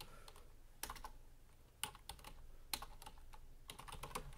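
Typing on a computer keyboard: quiet clusters of sharp key clicks in short bursts separated by pauses, close and alone.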